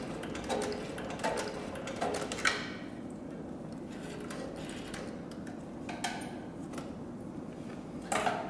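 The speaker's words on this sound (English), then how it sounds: "now we're going to go ahead and sew in reverse, and I'll show you that the forward stitch and the reverse stitch match perfectly on this machine" A heavy-duty leather sewing machine stitches in reverse through thick material, giving off a close, steady run of rapid mechanical ticks and clacks with no talking.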